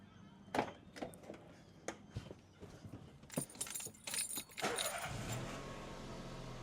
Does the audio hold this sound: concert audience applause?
no